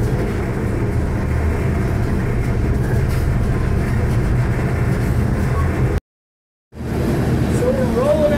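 A freight train rolls out of Grand Junction, recorded from the lead end, with a steady, loud low rumble and broadband roar that holds throughout, broken by a brief dropout near the end.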